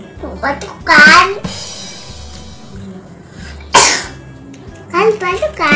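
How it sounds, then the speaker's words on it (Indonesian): A two-and-a-half-year-old triplet gives a few sharp coughs close by, with a voice talking around them. "Awas batuk lagi."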